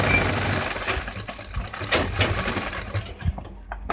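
A sewing machine stitches the back pocket of gents' formal pants, running in short close bursts of rapid mechanical chatter that speed up and slow down before stopping.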